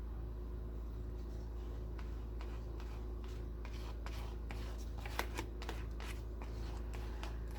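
Scissors cut out paper pieces for a mixed media collage: a run of soft, crisp snips and paper rustles, closer together toward the end, over a steady low hum.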